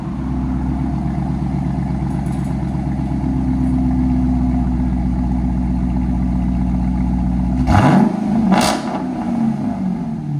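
A 2021 Dodge Charger R/T with a 5.7L HEMI V8 and Borla ATAK cat-back exhaust holds a deep, loud, steady rumble close by, then near the end the tone drops sharply and is broken by two brief harsh bursts.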